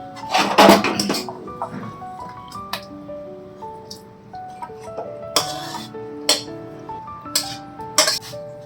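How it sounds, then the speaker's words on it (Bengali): Curry is stirred in a metal pot and lifted off the stove, giving scattered clinks and scrapes of a spoon against the pot alongside bright metallic clanks, close and fairly loud. "এবার তরকারিটা আমি নেড়ে নামিয়ে নিচ্ছি"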